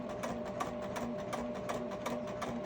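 Sewing machine stitching a bag, a quick steady run of needle strokes with a soft motor hum underneath, close and fairly quiet.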